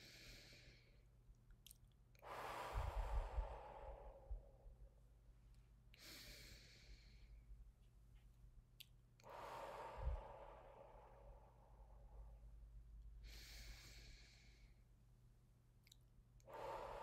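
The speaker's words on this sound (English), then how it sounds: "When we exhale, we want to exhale through our mouth and breathing in through the nose." Slow, deep breaths during a guided wellness exercise, drawn in through the nose and let out through the mouth, come as soft, airy whooshes spaced several seconds apart, close and quiet, with no talking.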